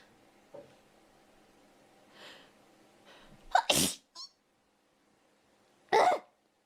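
Someone sneezes several times: a loud, sharp sneeze near the middle with a short follow-up, then another strong burst near the end, with quieter breaths and snorts between, close and otherwise quiet.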